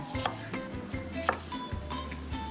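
Knife slicing through a red onion on a cutting board, a series of sharp, close chops in an uneven rhythm, several of them thudding against the board, with faint kitchen clatter behind and no talking.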